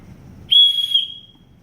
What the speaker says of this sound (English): you're gonna have a whistle